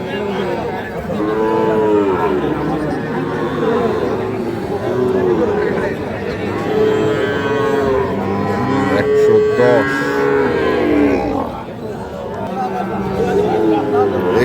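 Cattle moo repeatedly at a busy livestock market for Sahiwal-breed bull calves, loud drawn-out calls rising over a constant crowd murmur and nearby talking.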